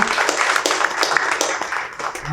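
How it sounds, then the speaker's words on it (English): An audience at a Rutherford board of education meeting claps for two art teachers, a brisk burst of many hands close by that thins out toward the end. "a round of applause to Ms. Classi and Mr. Aslisi for the work they do"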